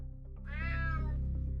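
A cat meows inside the stealth action video game UnMetal, one drawn-out, rising and falling yowl that sounds loud and close over a steady low hum.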